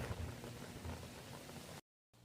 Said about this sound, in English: Oh no, I gotta go in. It's raining.